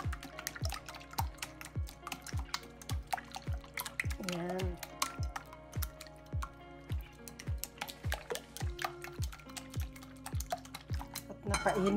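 Leftover eggs being mixed with pepper and parsley for an omelette, a rapid, regular tapping of a utensil beating against a bowl, close and steady, with a voice talking briefly in between.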